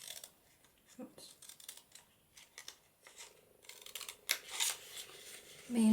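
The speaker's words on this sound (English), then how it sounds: "Me and a pair of scissors is a dangerous combination." Scissors snipping paper at a papercraft table, with quiet, sparse cuts and a cluster of sharper snips near the end.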